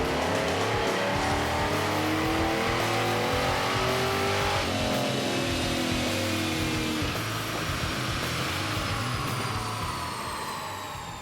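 Tuned Bandit tribute Trans Am V8 roaring through a dyno pull, its loud sustained revs climbing steadily in pitch, then easing off toward the end.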